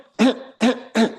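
A voice imitates a minute gun cough, a symptom described for Corallium rubrum: three loud, forceful cough-like bursts at a steady, evenly spaced rhythm, each sharp onset fading briefly before the next.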